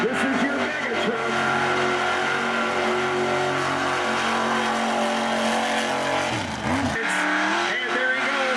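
A mega truck engine revving hard through a mud pit at a mud racing weekend, loud sustained roaring with rising and falling pitch that cuts out briefly near the end before picking up again, with an announcer talking over it.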